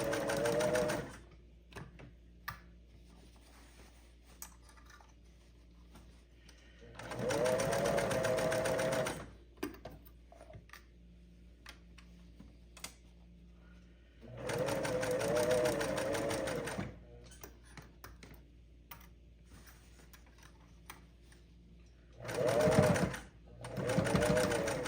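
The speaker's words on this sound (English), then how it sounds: "take your time and make sure you're getting your stitches where you want them" A sewing machine stitches a homemade hiking stuff sack in three separate runs of several seconds each, whirring steadily at moderate speed with quiet pauses and small handling clicks between them.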